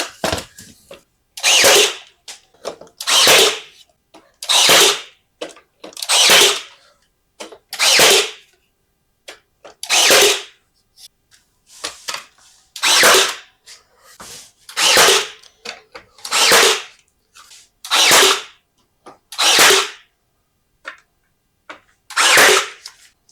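Cordless Ryobi lithium brad nailer driving nails into wooden trim, firing about fourteen sharp, loud, close-up shots at a steady, roughly one-and-a-half-second rhythm with quiet gaps between.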